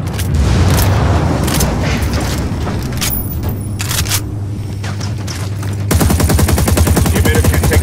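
Gunfire and explosions erupt as a helicopter is destroyed in Ghost Recon Wildlands, with loud booms and scattered shots giving way to a rapid, sustained burst of automatic fire at the end.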